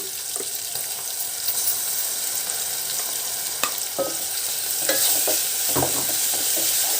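Masala and tomato fry in a pan for an Andhra-style fish curry, giving a steady close sizzle with a few scraping stirs and clinks and no talking.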